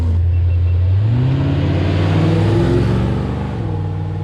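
A Porsche 928 V8 starts with a low idle burble and then revs up into a rising roar. The engine note climbs in pitch and volume before easing back slightly, loud and close, with no voices.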